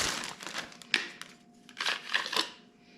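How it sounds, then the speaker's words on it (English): Packaging for a Saker cordless hedge trimmer being unwrapped, with close, quiet crinkling and rustling of plastic in several short bursts separated by brief pauses. "Let's unwrap this here and show you what it looks like."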